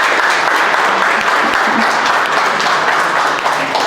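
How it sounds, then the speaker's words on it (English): Audience applause filling a room, dense steady clapping from many people held at a loud, even level throughout. "let's give them a round of applause"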